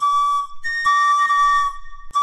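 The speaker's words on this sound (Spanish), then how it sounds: "Comenzaremos hablando de la pifulca, o pifilca, que es una flauta vertical," A pifulca, the Mapuche vertical flute of wood or stone that gives a single tone, is blown in loud, steady whistling notes, one long tone broken by brief gaps and a short final burst.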